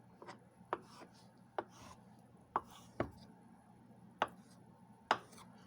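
Hard boiled eggs are cut with a knife on a board, giving about eight sharp separate taps at irregular intervals, close and quiet, with no talking.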